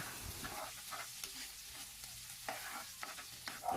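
Barilis fish skin cooking with sautéed spices in a pan, heard as a continuous low sizzle with soft stirring scrapes.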